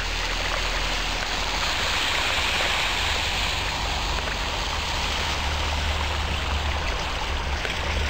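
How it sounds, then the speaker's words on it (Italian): Water gushing from a leaking manhole at Cavoni in Frosinone, a steady loud rushing roar like a stream, continuous throughout. "da un tombino fuoriescono litri e litri di acqua al minuto che vanno dispersi"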